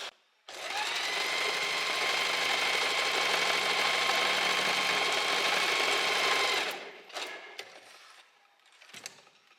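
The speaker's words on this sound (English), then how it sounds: "Now we need to do a long stitch to gather the fabric together" A sewing machine runs a long gathering stitch along the edge of blouse fabric, a loud, steady mechanical whir for several seconds, then stops, followed by a few small handling noises.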